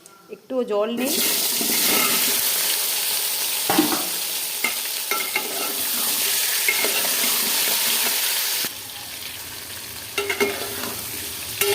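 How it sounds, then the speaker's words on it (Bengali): Dried red chillies fry in hot oil for a Bengali mango pickle, giving a steady loud sizzle with stirring clatter and scraping throughout, easing off toward the end. "আর কয়েকটা শুকনো লঙ্কা এই যে দেখো একেবারে ভাজা ভাজা হয়ে গিয়েছে"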